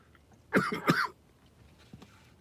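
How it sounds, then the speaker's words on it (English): A person with a lingering nagging cough gives a short cluster of two or three close, harsh coughs in a quiet room, then a faint throat sound a moment later. "But I still got this nagging cough when I get talking a lot."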